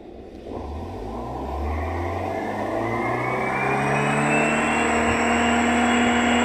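A car engine converted with an LPG gas kit and power jet revs up steadily, pitch climbing from idle to a sustained high whine and holding there, loud and close with no talking.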